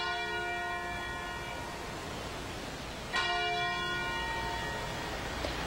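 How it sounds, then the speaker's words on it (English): Church bells ring out in Atlanta, a sustained metallic peal with one fresh strike partway through, heard from a distance amid steady outdoor ambience with no voices. "An Atlanta church rang its bells 80 times today in honor of the late civil rights leader, Congressman John Lewis."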